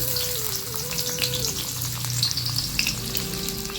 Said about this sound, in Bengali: তেলটা গরম হয়েছে, দিয়ে দিব পেঁয়াজ কুচি।